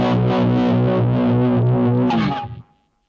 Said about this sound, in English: let's put some heavy phaser onto this tone